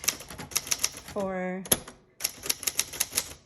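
Keys clack on a 1968 Adler J4 manual typewriter in quick bursts, broken by a ratcheting carriage return and a sharp bell ding, with a voice speaking over the typing.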